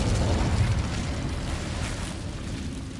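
An Incendio fire spell blasts in the Hogwarts Legacy video game, a broad roaring whoosh of flame that starts at full strength and gradually tapers off over a few seconds.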